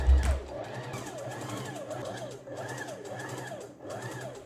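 A home sewing machine stitches along a folded dress hem, its steady motor whir rising and falling in regular pulses after a brief thump at the start, close and continuous with no talk.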